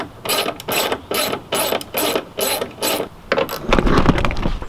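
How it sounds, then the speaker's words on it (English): A ratchet with an 8mm socket backing out bumper bolts on a 2016 Mustang GT, heard as loud, close bursts of rapid clicking in about seven even strokes, then a rougher, denser stretch at the end. "I'm using an 8mm and taking off these 4 bolts here that hold the bumper into this guy here"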